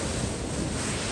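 Water gushes out of downward-pointed vents at a lake pumping station, a loud, steady broadband roar of rushing, splashing water with no break, heard alone close by.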